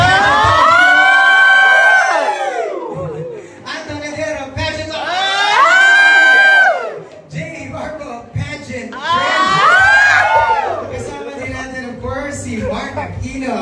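A crowd at a beauty pageant shrieks and cheers in loud, sustained waves. Three big bursts of high screaming swell and fade, with lower murmuring between them.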